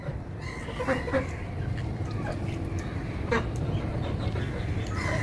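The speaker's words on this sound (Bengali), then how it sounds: "তো এখানে যে ইয়াগুলো দেখতে পাচ্ছেন হাঁস মুরগি" Ducks quacking among chickens in a backyard poultry flock kept for household meat and eggs, several short calls scattered over steady outdoor background noise, moderately close.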